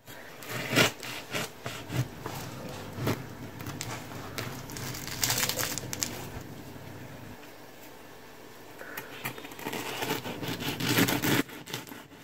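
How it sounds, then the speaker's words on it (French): A knife cuts through a baked, cooled galette des rois made with puff pastry, giving repeated crisp crackling and scraping strokes close up, then a quieter stretch before more crunching. "Nous allons découper et voir comment elle se présente à l'intérieur."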